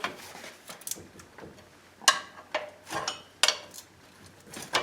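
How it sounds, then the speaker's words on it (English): Metallic scraping, clinks and sharp knocks as a brake caliper is pried off a Ford F250/F350 Super Duty 4x4 truck, irregular bursts close by with quieter rubbing between them. "now that we've got the bolts out of the caliper, we can pry it up off of here"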